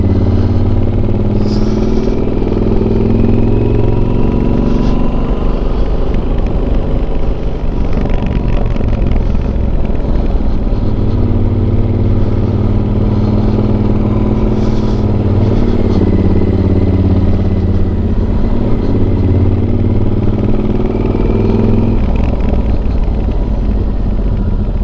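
Yamaha XT1200Z Super Tenere engine drones steadily while riding on a road near Lauder toward Peebles, with loud close wind roar and the pitch shifting through gear changes.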